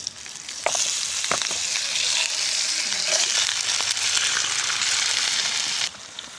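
Food fries in a pan at a campsite in Siniloan, Laguna, giving a steady, close sizzle with a few sharp clinks of utensils near the start and a sudden stop at the end.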